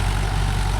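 A Mahindra 415 DI tractor engine runs at a steady, loud, low rumble with no break across the short stretch, and nobody talks over it.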